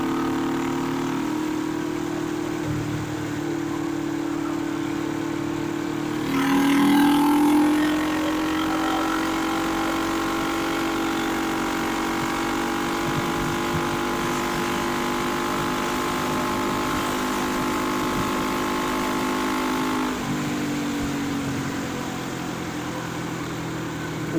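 A 1972 Honda CB450 motorcycle engine drones steadily while riding, rising in pitch through a brief rev and gear change, then holding a smooth mid-pitched hum before easing off.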